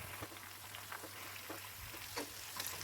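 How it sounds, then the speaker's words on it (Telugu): Chicken 65 pieces fry in hot oil with a steady crackling sizzle and scattered pops, close and moderately loud, with no talking. "సో ఇలానే మిగతా అన్ని పీసెస్ కూడా ఫ్రై చేసేసుకోవాలి."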